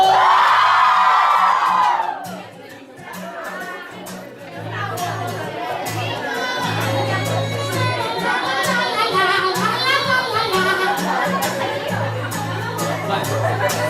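Live concert audience whooping, yelling and cheering together in a loud, sustained roar over band music, right after a singer calls out to the crowd.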